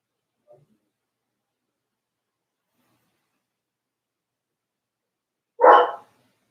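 After near silence, a dog lets out one loud, close bark, preceded only by a faint tiny sound.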